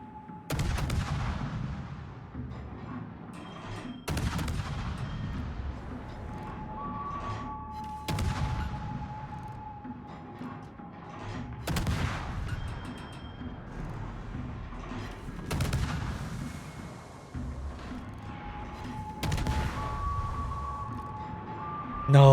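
Naval guns firing in a warship video game, a French Orage torpedo boat in battle, with six heavy booming salvos at roughly four-second intervals over a continuous rumbling background.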